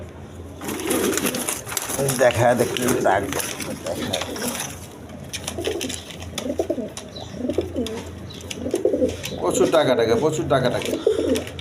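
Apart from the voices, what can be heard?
pigeons cooing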